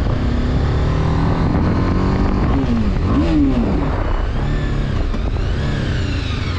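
A BMW G310RR motorcycle's exhaust drones steadily, the engine note rising and falling through a couple of revs midway, heard alone without talk.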